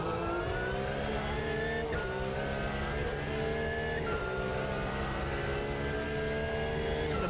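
A Porsche GT3 Cup race car engine howls at high revs on the Oulton Park International circuit, steady and loud with shifting pitch through gear changes, close and continuous, with no talk over it.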